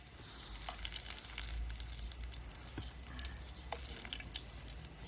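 Saba bananas frying in a pan, giving a steady close sizzle of hot oil dotted with sharp little pops and crackles, with no talking over it.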